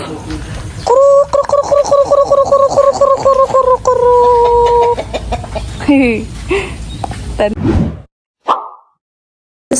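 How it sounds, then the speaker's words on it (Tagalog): Many chickens cluck and squawk together close by on a farm, a busy flock chorus with rhythmic calls and occasional louder cries. "Daming manok."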